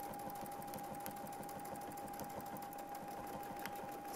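A sewing machine stitches steadily while quilting along a Westalee Spin E ruler, with a constant motor whine and a fast, even needle chatter running close and uninterrupted with no voices.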